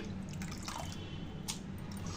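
Water trickles and drips steadily as it drains from a sieve holding pressed tripe, close and continuous, with a few small splashes and no talking.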